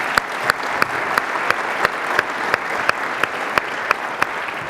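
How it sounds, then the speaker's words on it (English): Steady round of applause for panelists at a military warfare symposium, a large audience clapping continuously, with one nearby clapper's sharp, evenly spaced claps standing out over the crowd. "can I get a round of applause for our panelists?"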